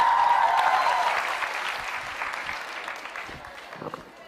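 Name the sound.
audience applause for Diksha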